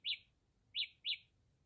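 Three short, high electronic chirps from Samsung Galaxy Buds Live earbuds' find-my-device tone, one alone and then a closely spaced pair, ringing out clearly over a faint low hum.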